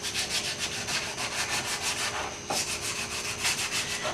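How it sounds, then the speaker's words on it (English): Sandpaper rubs back and forth over a wooden handle in steady, close strokes, a continuous scratchy rasp with a brief pause near the middle before the rhythmic sanding resumes. "We'll be taking some sandpaper and just briefly going over it."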